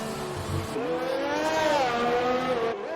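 A Formula 1 car in a racing video game at Monaco revs hard under heavy throttle, its high engine whine rising and wavering as the rear tyres spin, loud and steady throughout.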